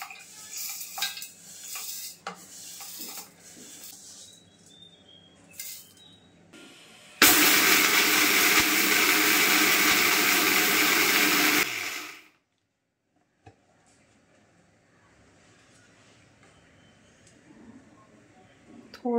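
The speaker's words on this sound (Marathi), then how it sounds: "पण थोडंच आहे म्हणून मी हे मिक्सरमध्ये बारीक करून घेते" A kitchen mixer grinder grinding a small batch of ragi (finger millet), loud steady whirring for about five seconds before stopping abruptly, preceded by clinks of utensils and someone talking.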